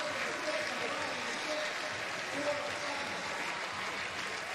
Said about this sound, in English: Look at the reaction of this crowd right now.